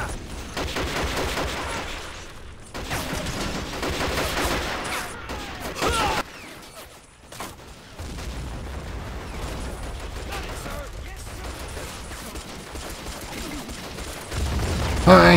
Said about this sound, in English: Sending off artillery to the center.